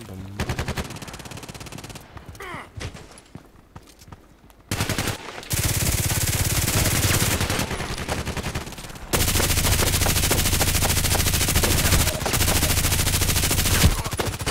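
An RPKT machine gun fires in the game Contract Wars on Hardcore mode, with loud rapid bursts that start and stop, then long sustained automatic fire, close and dominant.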